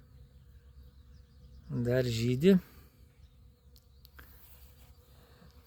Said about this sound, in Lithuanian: O bitelės tai jau dūzgia